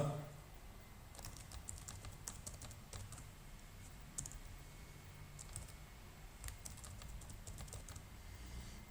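Keys clatter on a computer keyboard as contract data is typed into a procurement system, with quick irregular clusters of clicks close by over a faint background.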